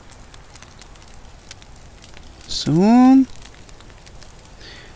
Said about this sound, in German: Und das Fleisch werde ich noch grillen.